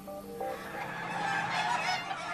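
Hens cluck and call in a poultry setting, a busy layered mix of throaty fowl voices, moderately close and continuous, with no talking.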